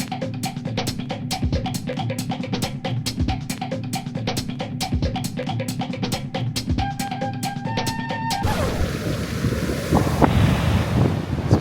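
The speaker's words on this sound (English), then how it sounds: "Blowing an absolute gale this afternoon now. Those waves are really quite choppy." Choppy sea waves crash on the shore at St Bees under a strong gale, with heavy wind buffeting the microphone throughout and a rough, continuous roar that swells louder near the end.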